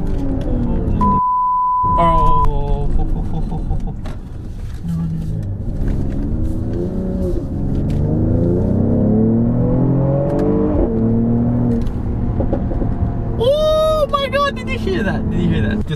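A 2021 Mercedes GLE 53 AMG SUV engine revs up hard at full throttle with a rising whine, mixed under a voice talking over it.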